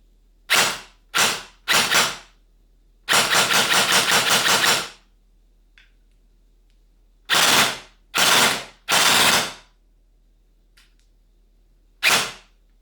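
A Specna Arms airsoft replica, powered by an 11.1V Armatech LiPo battery, fires close and loud in sharp bursts: several brief shots, one long rattling string of rapid fire, then more short volleys separated by silence.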